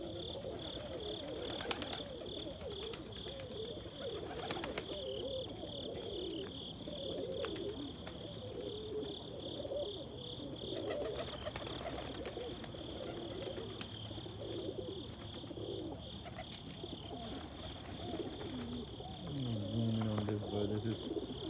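Soft, low roller pigeon cooing repeats outdoors on a chilly morning alongside other chirping birds and a constant high insect-like trill, fairly faint and distant.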